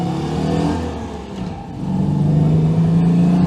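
A Citroen 2CV's air-cooled engine idles in first gear and then pulls away, a close, steady mid-pitched drone that dips briefly and rises into a firmer hum as the car moves off.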